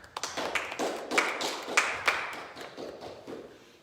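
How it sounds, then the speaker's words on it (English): A church congregation claps during a service, with a quick run of loose, overlapping claps and a few sharper accents. The sound thins and fades out toward the end. "Let's clap for Jesus."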